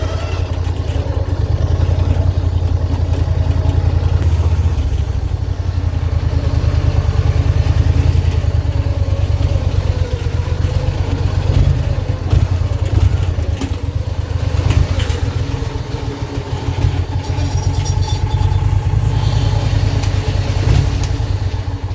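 A hot rod race mower tractor drifts through snow on a street, its engine firing and running loud and close. The rough, throbbing exhaust note continues steadily throughout, with clattering pulses.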